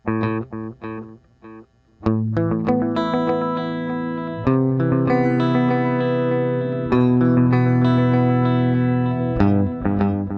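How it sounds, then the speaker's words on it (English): Plucked guitar notes ring out through stereo quarter-note and dotted-eighth delays, repeating echoes trailing behind them and building into a layered, rhythmic cascade of delayed tones. "you will hear the quarter note pattern on one side and the dotted eighth note pattern on the other"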